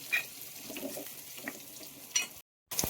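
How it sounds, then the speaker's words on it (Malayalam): Onions and ginger fry in a pan while being stirred, giving a steady close sizzle with scraping stir strokes and a brief silent gap near the end. "ഉള്ളിയും ഇഞ്ചിയും എല്ലാം നല്ലവണ്ണം വാടി വരുന്നത് വരെ നമ്മൾ നന്നായിട്ട് ഇളക്കി കൊടുക്കണം"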